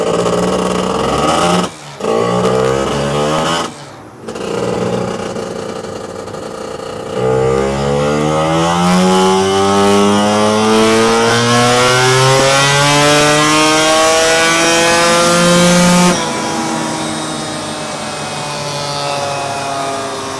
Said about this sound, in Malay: Okey, kita try run CDI standard tu.